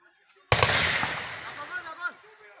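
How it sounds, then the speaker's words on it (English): A gunshot fired at a target by fighters in the field: one sudden loud close crack with a long, rolling echo fading over about two seconds. "Now we start shooting gun, no?"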